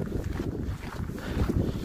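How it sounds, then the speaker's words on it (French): Gusty wind blowing by the sea on a coastal walk, a steady rushing buffet against the microphone, moderately loud with no other clear sounds. "Ah, il va y avoir un peu de vent, c'est dommage."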